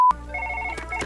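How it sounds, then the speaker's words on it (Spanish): In the video game Surgeon Simulator 2013, a telephone rings briefly with a short electronic trill that starts right after a sharp beep and holds steady for about a second. "llaman al teléfono"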